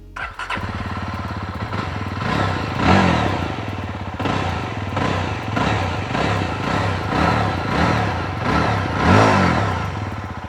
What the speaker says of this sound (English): First up is the Yezdi Roadster, which now gets a revised exhaust.